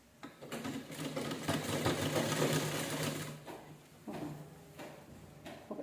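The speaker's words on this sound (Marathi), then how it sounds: "शिलाई करून घ्यायची." A sewing machine stitches a cloth bag, its rapid mechanical whir running steadily for a few seconds, pausing briefly, then starting again in short bursts, close and clear with no talking.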